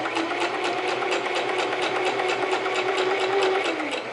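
Sewing machine stitching a flat felled seam in fabric at a 1/2 inch allowance, a steady rapid mechanical whir with fine regular needle ticks running continuously and close, with no talk over it.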